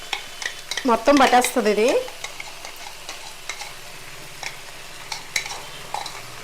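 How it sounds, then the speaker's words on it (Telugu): Ginger garlic paste sizzles and fries in a pan for home-cooked fish fried rice, with a burst of scraping and stirring early on, then a steady soft hiss with light clinks while someone speaks briefly. "ఇదిగోండి ఇలా వేగుతుంది కదా, వేగుతున్నప్పుడే అల్లం వెల్లుల్లిపాయ పేస్ట్ చేస్తున్నాను."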